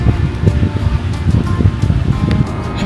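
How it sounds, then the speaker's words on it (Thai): Strong wind at Pinary beach buffeting the microphone, a loud, continuous roaring rumble with gusty fluctuations and no clear voices. "ลมลมแรงมากเลยค่ะ"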